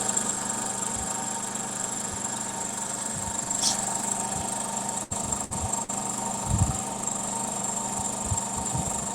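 A refrigerant recovery machine runs steadily after being switched on, a faint, constant mechanical hum and drone with a high whine, broken by a few small knocks and clicks, with no talking.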